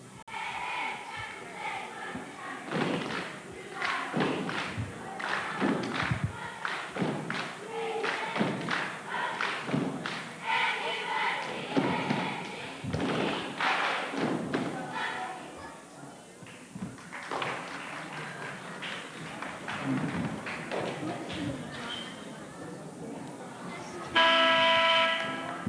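A Brainerd 8th grade cheerleading squad performs a cheer on a basketball court, with rhythmic chanted voices and sharp stomps and claps echoing through the gym at a 1986 boys' game against Beck.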